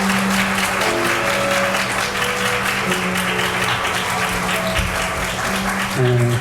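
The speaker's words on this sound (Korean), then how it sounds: "여러분 모두 박수로 축복해 주시기 바랍니다" Wedding guests in a convention hall applaud the bride and groom, a steady dense wash of clapping filling the room for several seconds, with faint tonal music and murmuring underneath.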